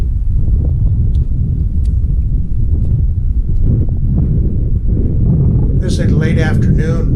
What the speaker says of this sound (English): You can hear the wind here, it's very windy.